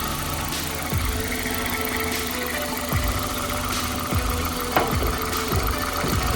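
A Toyota Celica with a JDM 2ZZ engine idles steadily up close, a constant mechanical hum with faint periodic ticks and no one speaking.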